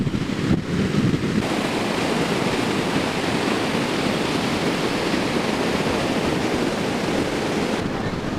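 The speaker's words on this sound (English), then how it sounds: "we still took walks on the windswept beach" Steady wind and rolling surf on a windswept beach in Sri Lanka, a loud continuous roar with wind buffeting the microphone and no speech.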